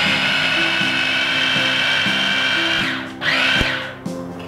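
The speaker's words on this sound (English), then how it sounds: "you're just going to continue to blitz that until you've got a nice fine paste" A blender blitzes pine nuts and other pesto ingredients into a fine paste, a loud steady motor whirr that dips and surges briefly near the end as the load shifts.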